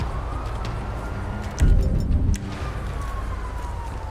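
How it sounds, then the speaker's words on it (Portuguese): A police siren in GTA V wails faintly in the distance, a thin sweeping tone over steady traffic rumble, with a louder vehicle passing briefly midway. "Viatura tá passando lá embaixo, tá virando na ponte."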